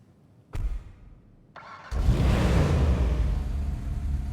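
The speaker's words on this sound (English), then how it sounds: "I'm going to let you guys hear the startup." Ocelot Lynx car from a video game cranking over, a brief starter burst followed by the engine catching and settling into a loud, steady idle close by.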